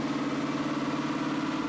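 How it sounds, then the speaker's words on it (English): A 427 stroker V8 in a 1997 Ford Thunderbird idles on a chassis dyno with a steady, even, throbbing rumble, close and continuous with no voices. "Mike lets the engine idle until it reaches a stable operating temperature"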